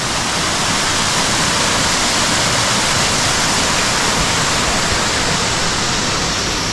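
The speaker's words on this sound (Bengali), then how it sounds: "আর শুধু ঝর্ণার আওয়াজটা শুধু শুনুন কানে একবার।" A waterfall roars loud and steady near a river in dense forest, a continuous broadband rush of falling water with no pauses and no voices over it.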